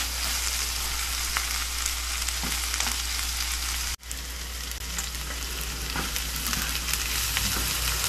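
Garlic and onion sauté in a pan for pork with pechay, giving a steady, dense sizzle with light scraping and stirring, close and continuous apart from one brief dropout.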